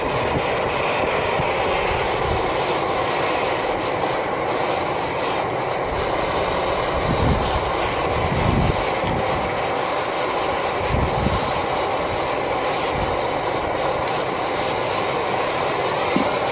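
A Fire Maple Lava camping stove burner roars in a continuous, loud, broadband rush close by, holding steady throughout with a few faint low knocks and no talking.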